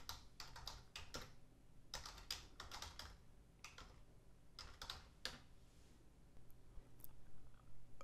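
Quick bursts of typing on a computer keyboard while entering keywords in photo-cataloguing software, with clusters of crisp, close key clicks separated by short pauses and no talking.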